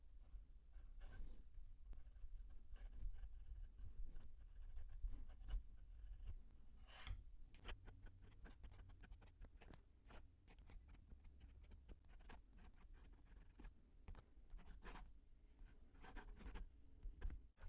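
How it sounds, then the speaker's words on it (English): A dip pen loaded with green ink scratches across paper in short, repeated strokes, very quiet and close, with faint rhythmic rasping and small taps between words, no talking. "But let's dip it and do a little writing."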